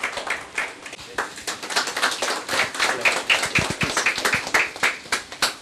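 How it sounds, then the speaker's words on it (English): Audience applause greets the chief guest, a solicitor from England and Wales, at a seminar: dense, steady clapping from a moderately sized crowd, continuous throughout with individual claps standing out nearby. "please give a big round of applause for our chief guest, Mr. Piyush Shah"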